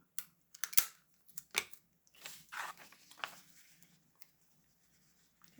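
Tape pulled off a roll and torn in a few short crackling bursts, close and fairly quiet, while a feelings thermometer craft is folded and taped, with brief pauses between pulls.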